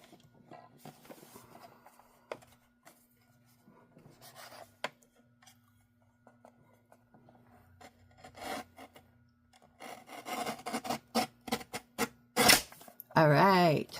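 Strips of paper pad cover being cut and trimmed, heard as quiet scattered scraping and snipping at first, then louder rasping cuts and rustles building toward the end, with occasional voice.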